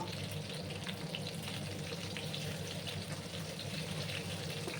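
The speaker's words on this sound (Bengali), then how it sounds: "ভালো করে 4-5 মিনিট সময় নিয়ে আমি আলুগুলো আর পটলগুলো ভেজে নেব" Potatoes and pointed gourd (parwal) with turmeric frying in a pan, a steady, dense sizzle that stays even and continuous throughout with no talking.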